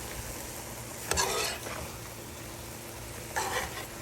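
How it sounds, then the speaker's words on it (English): Vegetables being stirred in a pot for a steamed side dish, with two short bursts of utensil scraping over a steady low background hum; no one speaks. "Then I will give this a stir"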